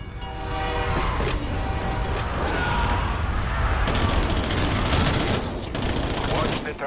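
A subway train rushes through the Ghost Station in a Call of Duty zombies map, a loud, sustained rumble and clatter of rail cars with a horn-like tone at the start and gunfire-like bursts mixed in.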